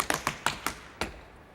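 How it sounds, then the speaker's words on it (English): Tap shoes strike a stage floor in a quick shuffle step, six crisp, close taps in an uneven rhythm with no one speaking. "the only tap lingo we're gonna start with is called a shuffle"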